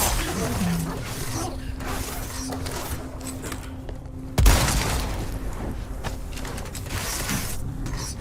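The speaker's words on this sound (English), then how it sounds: "Once Leon picks it up, he ejects the mag, racks the slide, inserts the magazine, that includes a new round, and does a final press check." Leon's handgun in Resident Evil 4 Remake is reloaded: the magazine is ejected, the slide racked, and a fresh magazine inserted, a run of crisp metallic clicks and ratcheting with one sharp clack near the middle, over a low ambient game backdrop.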